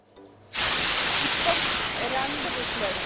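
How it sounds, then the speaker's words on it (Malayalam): A pressure cooker of dal curry on high flame: a sudden loud burst of hissing steam after a brief quiet moment, holding as a strong continuous jet with faint whistling tones. "സ്റ്റൗ ഓണാക്കി ഹൈ ഫ്ലെയിമിൽ തന്നെ രണ്ട് വിസിലടിക്കണേ"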